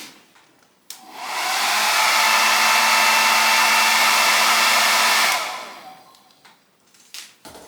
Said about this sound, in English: Again, hair dryer time